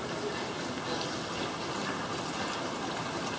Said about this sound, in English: lift it out of the water.